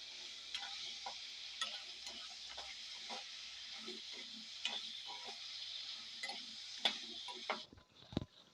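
Green tomatoes fry and soften in a pan, giving a soft steady sizzle dotted with small ticks and pops, close but quiet, ending with a brief clatter.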